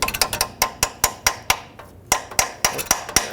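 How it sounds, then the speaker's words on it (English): Sharp metallic taps from a hammer driving a socket onto a bolt during catalytic converter removal on a 2013-2020 Nissan Pathfinder: about fifteen close, crisp strikes in quick, uneven rhythm, with no talking. "tapping a socket on it, I can already tell it's a little bit loose."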